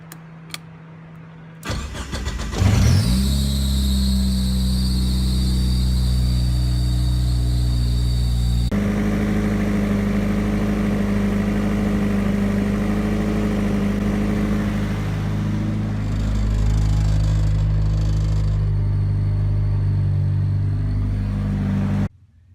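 A Mitsubishi Mighty Max pickup with a swapped 4G63 engine cranks and starts, then runs steadily with a loud, continuous mid-pitched drone, rising briefly in intensity before cutting off at the end.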